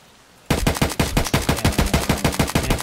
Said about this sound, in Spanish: Me está disparando, me está disparando.